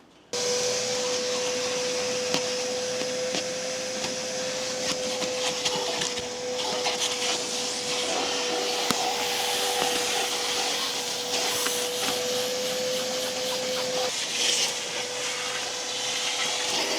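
A vacuum cleaner whines steadily up close inside a 20-year-old VW Passat, with scraping and rubbing of the nozzle against surfaces as it runs for a long stretch.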